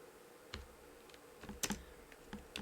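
Keys clack on a computer keyboard in scattered, irregular bursts, quiet and close, with brief pauses between keystrokes.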